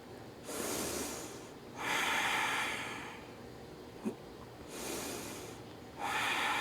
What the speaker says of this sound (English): Breathe into this back bend